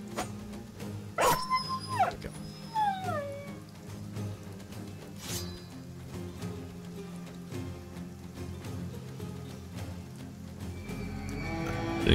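A dog yelping and whimpering in the Battle Brothers game during an orc ambush battle, a few sharp cries early on over steady game music and combat noise, with no voices.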